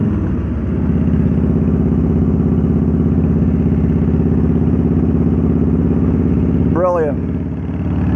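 Riding a motorcycle on the road produces a loud, close, continuous engine drone with a rumbling low pulse. A brief rising-and-falling whistle-like sweep appears near the end.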